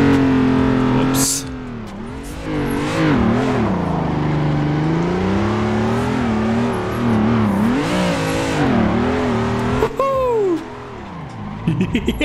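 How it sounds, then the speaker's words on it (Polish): Car drifting sideways in Assetto Corsa on a Vice City map, engine revving loudly and swooping up and down in pitch with tyre squeal, a sharp drop near the end, close and continuous. "Musiałem trochę ręcznym tam pomanipulować, żeby samochód ładnie szedł bokiem"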